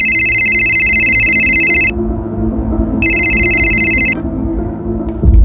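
A telephone rings during a phone call in a crime drama scene, with two long bursts of electronic ringing separated by a short pause. The rings are clear and loud over a low background hum, and no one speaks.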